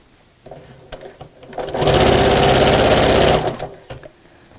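A sewing machine stitches a seam on a messenger bag, starting with a few short bursts, then running in one loud, fast, steady whir for about a second and a half before stopping, followed by faint handling noises.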